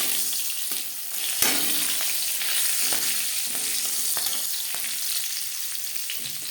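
Slit green chillies frying in hot oil with cumin, a loud, continuous close-up sizzle with crackling spurts and occasional stirring, no voices.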